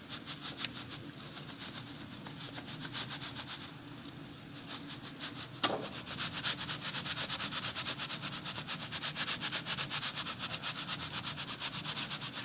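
Foundry green sand is shaken back and forth through a riddle, making a soft continuous gritty rasp and patter with one brief knock partway through.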